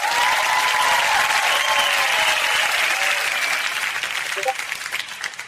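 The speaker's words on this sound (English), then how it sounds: "So, round of applause." Loud, dense crowd applause at a live talk-show event fills the whole stretch, steady and close with a few voices mixed in, thinning slightly toward the end.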